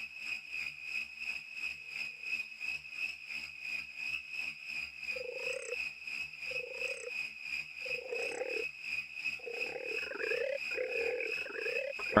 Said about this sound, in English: we got frogs and crickets